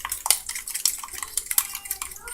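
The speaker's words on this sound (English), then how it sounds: "We flip it over and we scramble." Eggs scrambled in a pan for a quick breakfast, a spatula scraping and clinking in a quick irregular patter against sizzling, close and fairly soft, with no talking.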